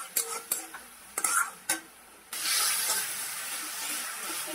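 Potatoes tossed into onions fried with tomato, whole cumin, ginger paste and ground spices: a few scraping and clinking stirs of a spatula in the pan, then a sudden loud, sustained sizzle that stays close and steady.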